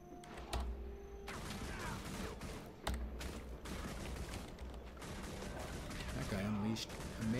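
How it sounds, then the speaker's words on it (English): Rapid double-pistol barrage skill firing in an online fantasy role-playing game, a steady stream of crackling shots with sharper cracks near the start and middle, layered over busy game noise and a speaking voice. "Reducing the cost of the double pistol barrage."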